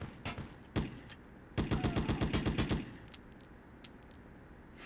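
Gunfire from an assault rifle in a PlayStation 1 game: a couple of single shots, then a rapid automatic burst of about a dozen rounds, followed by faint metallic clinks and quiet.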